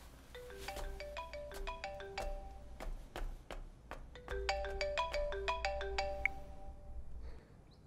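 A telephone rings with a bright electronic ringtone, a repeating melodic pattern of clear chiming tones that plays steadily for several seconds in a quiet indoor room before stopping.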